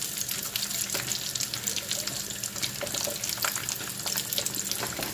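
Meat-stuffed pastels fry in a pan, giving a busy, crackling sizzle with dense spattering pops throughout, steady and close with no talk.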